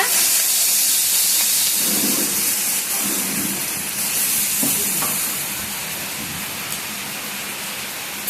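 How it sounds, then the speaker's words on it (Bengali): Water hits a fish spice paste of green chilli, turmeric and cumin in a hot pan for hilsa curry, giving a loud hissing steam burst that eases into a softer simmering sizzle with a few stirs. "একটু জল দিয়ে দিলাম, নাহলে মশলাটা পুড়ে যাবে।"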